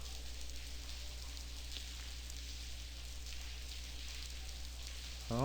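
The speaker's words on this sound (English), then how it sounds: "It's pouring cats and dogs out here." Heavy rain pours steadily in the point-and-click adventure game The Blackwell Convergence, outside an empty high-rise office ledge: an even, hissing downpour with no speech, ending in a brief rising tone.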